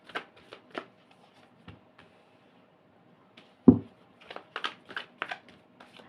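Tarot cards being shuffled by hand, bursts of riffling and sliding card noise with a sharper knock midway, close and clear, with no talking.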